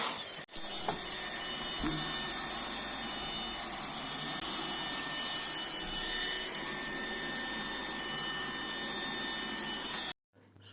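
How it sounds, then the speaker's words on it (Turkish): A Tefal X-Force Flex 8.60 Animal Care cordless vacuum cleaner whirs steadily at close range with a high-pitched motor whine and brushing against an armchair's upholstery, then cuts off near the end. "araba koltuklarınızı bu makineyle çok rahat bir şekilde süpürebilirsiniz"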